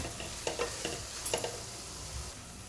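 Kasuri methi being sautéed in a pan, a faint sizzle with a few quick spatula scrapes and taps over a short stretch.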